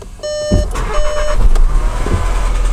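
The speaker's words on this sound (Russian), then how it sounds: "Ну что, давайте запустим двигатель, можно сказать, в прямом эфире." An Audi Q3 with a 1.4 TFSI CZDA petrol engine, a unit with a knock and heavy oil consumption, is started: dashboard chime beeps, then a brief crank and the engine catching into a loud, steady idle up close.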